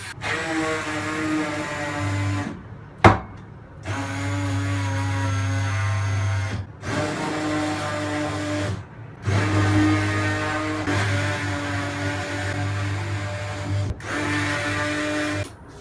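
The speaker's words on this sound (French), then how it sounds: "Mets pas tes doigts sur le mixeur branché." An English electric blender, run through a plug adapter while blending hummus, whirs loudly and steadily in several long bursts separated by brief stops, its motor hum strong and close.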